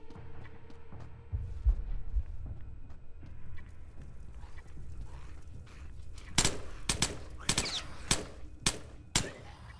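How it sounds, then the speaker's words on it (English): Rapid bursts of M249 machine gun fire in a video game, a cluster of sharp loud shots in the second half following quieter ambient rumble. "Let's use the M249 for this."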